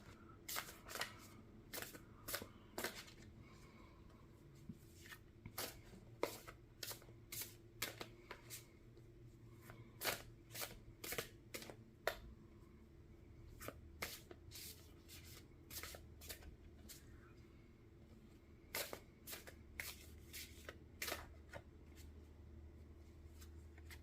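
Oracle cards from an animal deck being shuffled by hand, many quick soft riffling flicks in irregular bursts, close and quiet over a low background hum.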